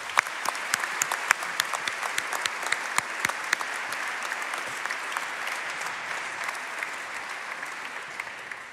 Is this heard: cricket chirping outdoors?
no